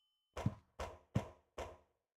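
Four evenly spaced, hollow knocks on a door in the horror video game Silent Hill 4, close and distinct against silence.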